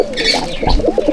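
Murshidabadi pigeons coo in a loft, a few soft, low, rounded calls close by with faint background noise and no talking.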